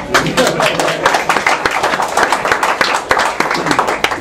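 Audience applause at a New Orleans Saints Hall of Fame induction event, a crowd clapping steadily and fairly close, with speech mixed in throughout.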